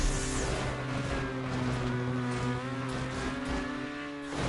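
Race car engine in a GTA Online stunt race revving hard and steadily, a loud sustained drone with strong layered harmonics that holds for several seconds and dips slightly near the end, with no talking.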